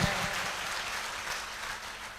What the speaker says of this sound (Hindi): ऐसे हमारे अविनाश जी के लिए भी एक बार जोरदार तालियां होगा